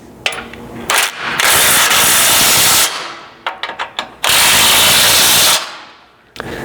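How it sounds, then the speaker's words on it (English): Bursts of a power tool driving a 17mm socket onto bumper mounting bolts during a front winch bumper install on a Nissan Frontier, loud and close, with short ratcheting clicks between two long runs. "And then you can grab a 17mm socket to tighten these up."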